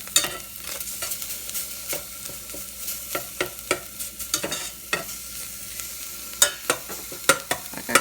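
Small bits frying and browning in a pan as a base for Hatteras-style clam chowder, a low steady sizzle with frequent sharp scrapes and taps of a utensil stirring against the pan, close up.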